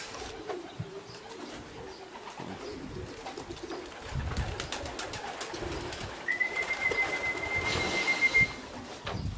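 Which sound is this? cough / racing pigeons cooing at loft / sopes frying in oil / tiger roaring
racing pigeons cooing at loft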